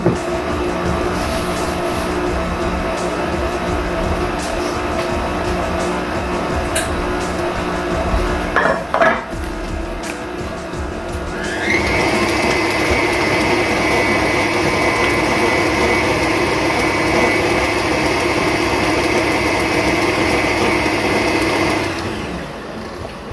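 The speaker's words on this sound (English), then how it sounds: "And we're just gonna Mix it together" Cake batter with milk is mixed in a bowl, a steady scraping and whirring churn that picks up and grows louder halfway through, with a few clinks against the bowl.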